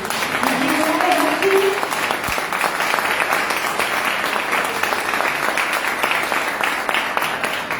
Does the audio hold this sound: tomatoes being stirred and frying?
no